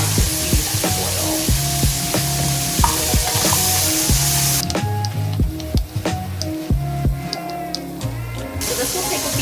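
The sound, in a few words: oil heating and sizzling in a pan on high heat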